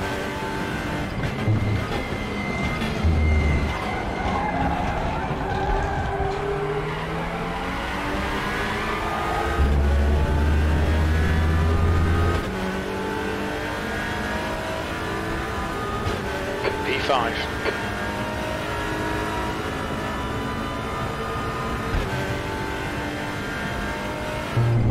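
Simulated race car engine lapping Sepang Circuit in an e-racing game, a steady engine drone with shifting pitch and gear changes throughout, partly under a commentator's voice.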